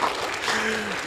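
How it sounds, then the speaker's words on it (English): Audience applause at a business integrity seminar, a brief continuous wash of clapping with a faint tonal hum running beneath it. "In fact, the better the applause, the warmer we get."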